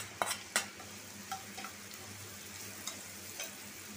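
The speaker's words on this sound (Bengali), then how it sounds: "এখন বাগার দেওয়ার পালা। তেল, পেঁয়াজ, রসুন, কাঁচামরিচ সব দিয়ে দিলাম।" Onion, garlic and green chili frying in oil for a tempering, heard as a soft, quiet sizzle punctuated by a few sharp clinks and scrapes of a utensil against the pan.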